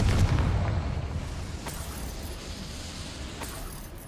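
A Confringo spell explosion from the video game Hogwarts Legacy: a loud low boom that bursts at the start and decays into a rumbling fade, with brief crackles afterward.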